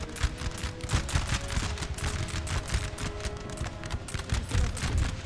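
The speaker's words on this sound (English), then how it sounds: "The two units behind will open fire." Musket volleys in the Napoleon Total War video game, with dense, continuous rolling crackle of many shots overlapping across several seconds, mixed with battle din and faint hoofbeat-like rumble.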